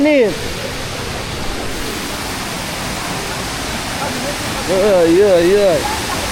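A waterfall in Chefchaouen, Morocco, gives a steady, loud roar of rushing water throughout, with a voice chattering over it briefly near the start and again near the end.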